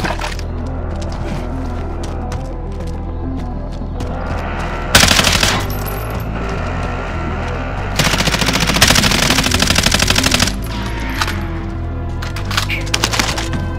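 Machine gun fire in Call of Duty: Modern Warfare, long rattling automatic bursts rising over a continuous battle din, with sharp loud volleys near the middle and speech faintly underneath.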